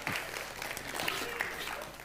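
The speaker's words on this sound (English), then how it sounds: "Give him a round of applause" An audience at a Christmas science show applauds a volunteer, a faint, fairly even spread of clapping heard from a distance for a couple of seconds.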